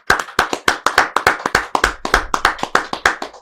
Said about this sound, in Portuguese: Eu quero uma salva de palmas para esse episódio